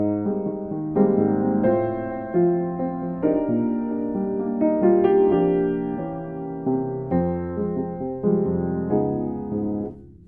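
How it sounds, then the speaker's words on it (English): Solo piano plays a song as a bossa nova groove, with syncopated bass notes and jazzy chords under the melody, moderately loud and alone without talk. "the first groove that I'm going to bring up is a bossa nova groove"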